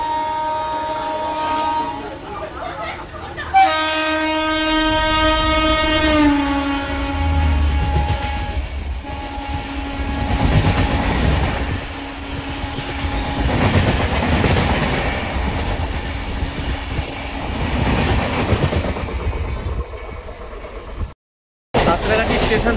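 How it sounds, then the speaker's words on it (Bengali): An express train passes a halted local train on the Howrah to Digha line, its horn blaring in a long harmonic blast early on, followed by a sustained clattering rumble of wagons rushing by, with people talking intermittently. "যেহেতু পাশ থেকে এক্সপ্রেস ট্রেন আসছে"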